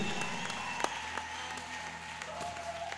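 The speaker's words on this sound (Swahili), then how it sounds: "Pigia Yesu mikono hiyo, makofi mazuri." Church congregation clapping hands in praise, a brief burst of close, lively applause with a voice faintly beneath.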